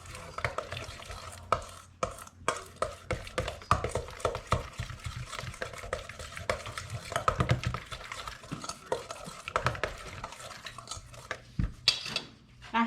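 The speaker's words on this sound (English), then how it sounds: "I'm gonna go ahead and stir that up and see if I need some more mayo or if I don't" A spoon stirs crab cake mixture bound with mayo in a bowl, giving repeated scraping and clinking strokes against the dish at close range, with no talk.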